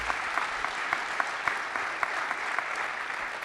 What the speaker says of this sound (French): pouvons les applaudir